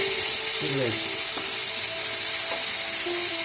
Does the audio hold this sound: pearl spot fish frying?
yes